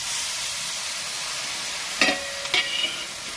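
A splash of water hitting a hot pan while koi fish cooks with cabbage, a faint steady hiss broken by two sharp bursts of sizzling and stirring clatter near the end.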